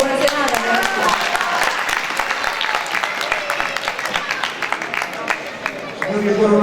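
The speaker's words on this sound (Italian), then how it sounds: "ancora un applauso" A theatre audience at a sceneggiata applauds warmly, dense rapid clapping filling the room for several seconds, with voices and cheers mixed in and a voice speaking near the end.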